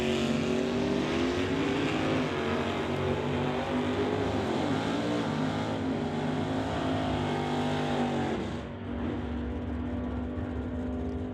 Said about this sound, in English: Wind light comes on for Russell Jeffrey, and the Nova goes 929 on a 926 dial. 145 miles an hour for the win